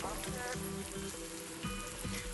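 Carrots and other vegetables sautéing in a pot for Turkish red lentil soup (mercimek), a steady soft sizzle with faint kitchen clatter and no talk.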